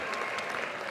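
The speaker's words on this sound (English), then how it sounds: "Can we give them all a round of applause?" A brief burst of steady clapping from a graduation ceremony audience at Eastmoor Academy, a dense even patter applauding the graduates.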